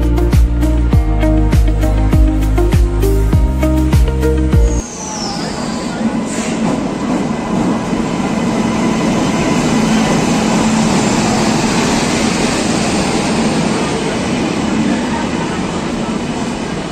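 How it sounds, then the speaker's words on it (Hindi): The Dehradun Subedarganj Express arriving at a platform in Haridwar station: after a loud musical jingle, a steady, heavy rumble and roar of rolling rail cars fills the rest, close and continuous, with a brief high squeal early on. "चलते हैं स्टेशन के अंदर और आपको दिखाते हैं हमारी ट्रेन का अराइवल यहाँ"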